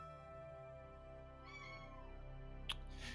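A cat gives one drawn-out meow over a steady humming drone, followed by a brief sharp click near the end.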